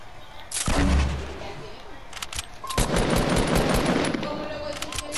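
Rifle fire in a shooting video game, bursts of rapid, heavy shots over continuous battle noise, loud and dense with a second long volley near the end, plus a faint voice underneath.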